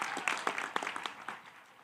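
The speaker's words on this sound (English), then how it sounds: "Round of applause for you guys" Brief burst of applause from graduates and families at a college graduation ceremony, a scatter of claps peaking early and fading out within two seconds.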